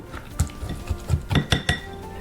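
Chai-spiced pear cake batter, with almond extract in it, being mixed in a bowl: a utensil scrapes and clinks against the bowl in irregular knocks and taps, close and fairly clear, with no talking.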